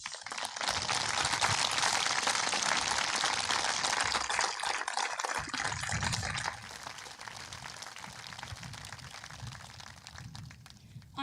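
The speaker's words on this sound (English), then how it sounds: "could we please give them a round of applause as they stand?" A crowd at a high school commencement ceremony applauds as graduates stand, a dense, fairly faint wash of clapping that holds steady and then eases to a lighter patter partway through.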